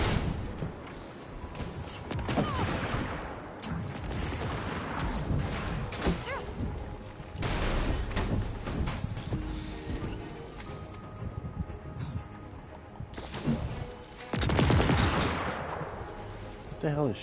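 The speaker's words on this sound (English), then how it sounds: "What the hell is shooting? I hear it shooting." Gunfire in the PS4 video game Marvel's Avengers, with repeated bursts of shots and heavy thuds coming in irregular clusters over a continuous game soundtrack, with a player talking intermittently.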